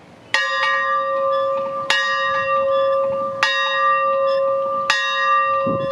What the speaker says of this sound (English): Robert always loves ringing the bell when given the chance